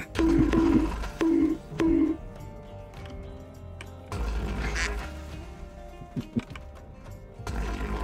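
Duck quacking sound effect from a soundboard: four short, loud, nasal quacks in quick succession at the start, followed by clattering game noise and a few scattered clicks.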